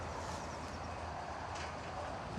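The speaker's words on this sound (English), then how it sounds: "this is a grain train" A freight grain train rumbles on the main line, a steady broad roar with a faint metallic rattle, continuous and fairly loud without breaks.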